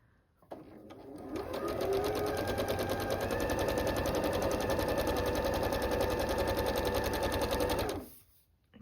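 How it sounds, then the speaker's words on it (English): Sewing machine sewing a quarter-inch seam on quilt fabric, one unbroken run of fast, even needle chatter lasting about seven seconds, close and clear, starting and stopping abruptly. "sew a 1/4 inch down each side"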